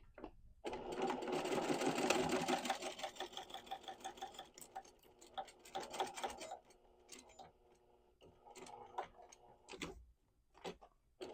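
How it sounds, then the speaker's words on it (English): A sewing machine stitches along the edge of interfacing on a sling bag, a close rapid mechanical whir in bursts that stop and restart, with small clicks and handling noises between runs. "we're sewing right along the edge of the interfacing"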